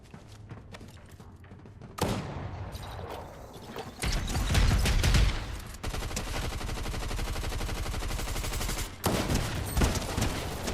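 Cluster bomb explosions in a video game, a rapid run of crackling blasts and bursts that rises, rumbles, then gives way to dense repeated detonations, loud and close with no speech.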